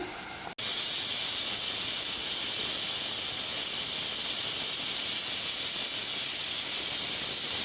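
Sliced onions frying in a pan on the stove, a loud, constant sizzling hiss that starts suddenly and holds steady and close without a break.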